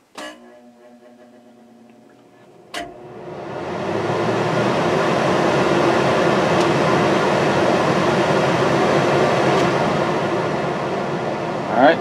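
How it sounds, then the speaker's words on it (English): RV rooftop air conditioner fan powered by a Harbor Freight 2000 watt inverter, switching on with a click and then building into a steady, loud broadband whir that holds evenly with no talk over it. "Alright, so we've got our fan on."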